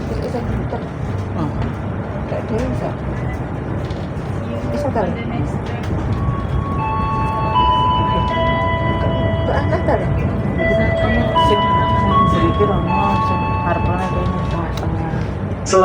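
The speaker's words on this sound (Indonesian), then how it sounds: "kereta api Wijaya Kusuma sudah diizinkan berangkat kembali meninggalkan stasiun Banyuwangi Kota" Wijaya Kusuma passenger train pulling away from Banyuwangi Kota station, a steady rumble of wheels and carriage noise with faint tones and squeals rising over it, heard from on board with a voice talking over the sound.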